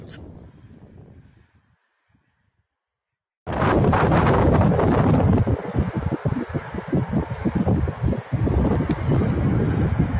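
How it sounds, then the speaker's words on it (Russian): Strong winter gusts of wind up to 18 metres per second buffet the microphone near a riverbank in Kuban, starting faint, dropping to near silence, then a loud roaring blast of wind noise from mid-clip on. "Порывы ветра достигали 18 метров в секунду."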